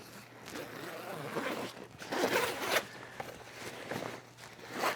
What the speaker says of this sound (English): I'll unzip it from this side.